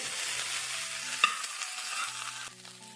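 Okra (bendakaya) frying on high flame for a curry, a crisp continuous sizzle with a sharp stirring clack near the middle and more scraping toward the end, no talking.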